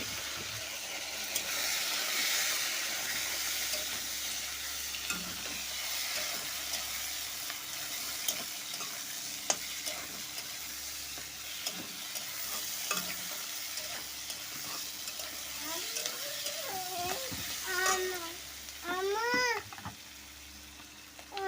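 Chopped onion and tomato sizzle in hot oil in a pan of already-fried okra for an okra prawn curry, with steady stirring and scraping throughout and a cat meowing several times near the end.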